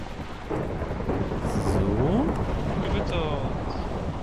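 A thunderstorm in the Minecraft GT New Horizons game brings a low, rolling rumble of thunder over a steady hiss of rain while someone talks over it.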